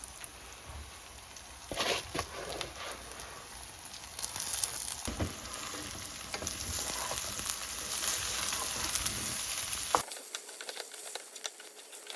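Spice paste frying in a pan for khichuri, with rice being added: a quiet, steady sizzle and hiss with a few soft stirring scrapes and clatters.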